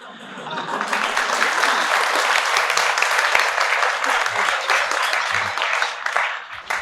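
Loud, sustained applause from a large crowd fills the clip, steady throughout and tapering slightly at the end.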